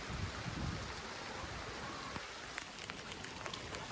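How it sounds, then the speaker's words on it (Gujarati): Heavy monsoon rain pours down in a steady, dense hiss with scattered sharper drops hitting surfaces nearby; quiet and continuous, with no voices. "આ વરસાદ બહુ આવે છે"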